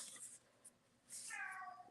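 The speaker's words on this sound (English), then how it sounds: "Sorry for the noisy kitty." A cat meows nearby, one drawn-out rising and falling call after a few faint squeaks, in an otherwise quiet room.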